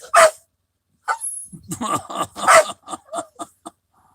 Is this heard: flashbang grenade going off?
no